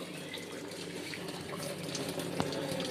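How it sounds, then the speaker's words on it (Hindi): Water pours steadily from an LG top-load fully automatic washing machine with a drain fault, a continuous close splashing gush with no talking. "ये पानी गिर रहा है, इसे ऑफ़ करेंगे हम।"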